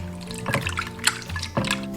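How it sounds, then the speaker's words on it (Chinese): Shrimp heads and shells being rinsed by hand in clean water, with close splashing and sloshing in short bursts. "加入清水淘洗干净"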